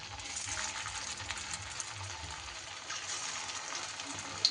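Potato chops (aloo chop) frying in hot oil give a steady, fairly quiet sizzle and crackle that runs unbroken throughout, with a small clink near the end and no voices.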